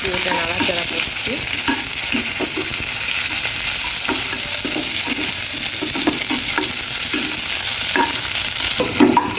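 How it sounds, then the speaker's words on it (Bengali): Onion sizzles steadily in a hot pan for a taro-stem greens dish, with repeated scraping stir strokes cutting through the constant crackle; close and fairly loud, with no talking. "এটা নাড়াচাড়া করছি"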